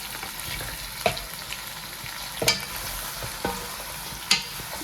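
Beef sizzling as it fries in a pan, a steady hiss of frying with a few stirring scrapes and clinks, close and unaccompanied by speech.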